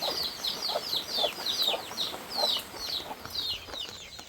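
Chickens clucking in a quick, steady series of high chirpy calls, moderately close, with faint background noise and no talking.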